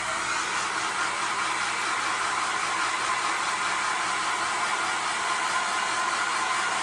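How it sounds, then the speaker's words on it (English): A hair dryer blows steadily to fluff up a yarn pom-pom, giving a continuous, even rushing whoosh at close range for the whole stretch, with no pauses. "use your hairdryer to fluff it up again"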